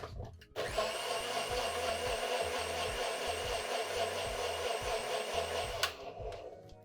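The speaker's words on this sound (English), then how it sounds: "Give it a blend." A blender whirs loudly and steadily for about five seconds as it crushes ice with spiced rum, Campari, pineapple juice and fresh lime juice into a blended cocktail, then cuts off abruptly, leaving a quiet tail.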